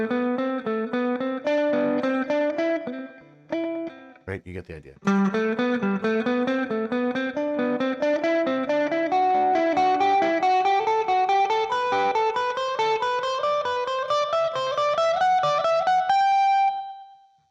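An electric guitar with a distorted tone climbs a scale note by note in steady, even steps, briefly broken by a short spoken aside before the ascent continues to a final sustained note.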